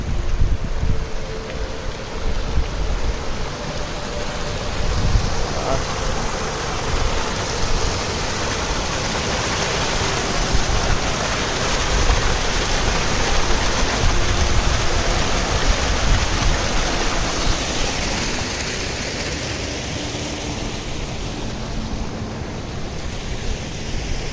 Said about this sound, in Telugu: water stream